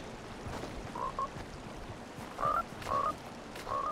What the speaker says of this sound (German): Ja, Frösche, ich höre euch.